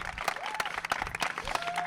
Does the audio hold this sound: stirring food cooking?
no